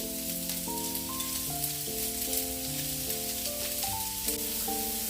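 Chopped onions and green chilli frying in hot oil make a continuous hiss and crackle beneath a prominent melodic music track that plays throughout.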